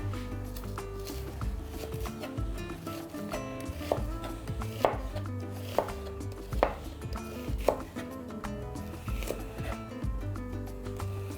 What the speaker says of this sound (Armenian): Գլուխ սոխը կտրատում ենք